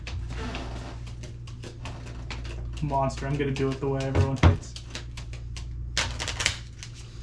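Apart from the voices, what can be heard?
shuffling a deck of game cards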